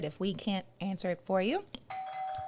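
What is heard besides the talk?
doorbell ringing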